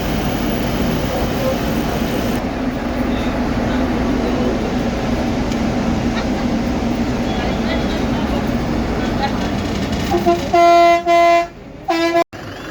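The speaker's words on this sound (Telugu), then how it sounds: "ఇదిగోండి ఇలా గుడి దగ్గర తీసుకొచ్చేది ఈ బస్సు" A free bus rumbles along near a hilltop temple with a steady engine drone and road noise, then a loud horn honks several times in short bursts near the end.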